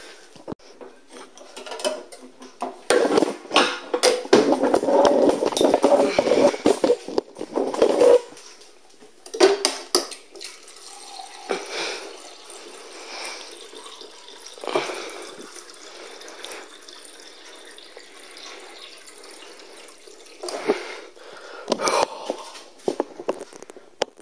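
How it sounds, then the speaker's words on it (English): Liquid pours and splashes with rubbing, clinking handling sounds, then quieter intermittent clatter and shuffling, with no talking. "let's calm down and get a drink of water"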